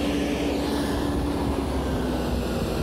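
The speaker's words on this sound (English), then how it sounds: "So to enlarge the hole, I'm using my oscillating spindle sander." An oscillating spindle sander enlarges a hole in wood, a loud continuous droning whir with a steady hum that runs unbroken throughout.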